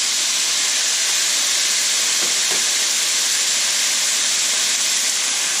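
Soy sauce poured into a hot pan of pork riblets being cooked sweet-and-sour style, giving a steady, broad hiss of sizzling that holds evenly throughout with no talk.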